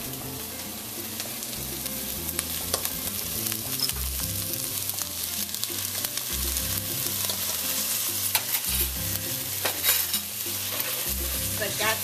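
Brown rice pelau with browning being stirred in a pot on a medium-heat stove: steady spoon scrapes and thumps against the pot over a continuous sizzle, close and fairly loud, with no voices.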